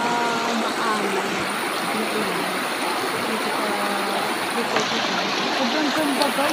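Water from a flowing stream rushes in a steady, loud wash that fills the whole scene without a break, while faint voices and a possible engine hum sit underneath.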